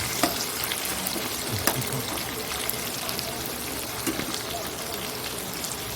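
Potatoes and pointed gourd frying in a pan make a dense, continuous sizzle like steady rain, with occasional soft stirring bumps and faint voices under it.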